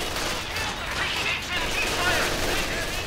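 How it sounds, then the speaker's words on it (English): Dense, continuous gunfire from a World War II winter battle in Company of Heroes 2, overlapping rifle and machine-gun bursts forming a steady loud barrage throughout. "Let's all shoot it up."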